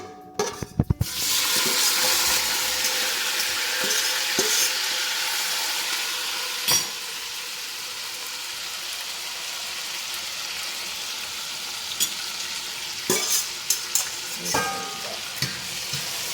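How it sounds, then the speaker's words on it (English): Vegetables hit hot oil in a pan for Jamaican brown stew chicken, bursting into a loud, steady sizzle with occasional sharp clinks and scrapes of stirring throughout, close and continuous. "And now I'm going to pour all my veggies in."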